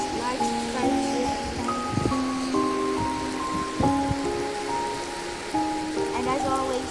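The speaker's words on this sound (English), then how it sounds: "It's raining too much." Heavy rain falls steadily as a continuous broadband wash, with sustained tonal sounds layered over it and a voice briefly audible.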